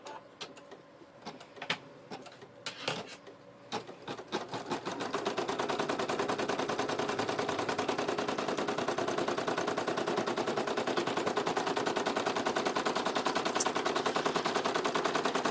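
An embroidery machine stitches a bear foot pad design, starting with a few scattered taps and clicks, then settling into a loud, steady, rapid mechanical rattle that runs continuously without speech.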